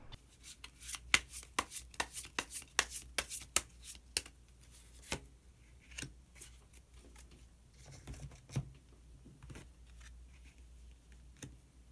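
Tarot cards are shuffled in quick bursts of crisp riffles and taps, then slower scattered flicks and slides as a card is drawn, close and quiet with no speech.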